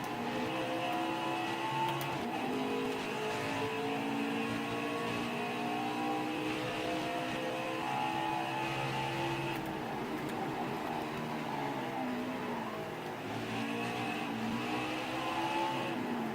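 Race cars circle the Indianapolis road course in the NASCAR Heat 5 video game, their engines holding a continuous loud, droning whine that shifts pitch as they rev and ease off, steady throughout without speech.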